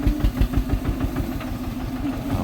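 A tractor engine chugs with a steady low rhythmic thumping while driving along a rutted track ahead of a cart, moderately close, with no talking.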